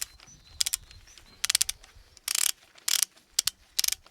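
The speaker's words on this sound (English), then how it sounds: "I've got my mooring pin over my ratchet to allow to get" A ratchet wrench clicks in quick bursts of several pawl ticks as it works loose tight cylinder head nuts on a Wolseley WD8 tractor, with short scraping rasps between the clicks. The sound is close and there is no talking.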